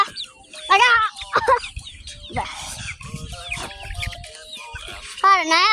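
Pet chickens, including young chicks, clucking and peeping close by in short repeated bursts, with a person's voice talking intermittently between the calls.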